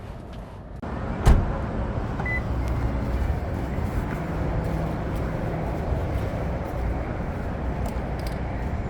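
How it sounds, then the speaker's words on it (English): A car maneuvers into a space at a shopping center parking lot, with a steady low engine and road rumble, a sharp click early on, and a brief faint beep. "let me turn my car and park it"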